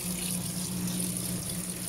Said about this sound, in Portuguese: Então ela tá com a bomba ligada.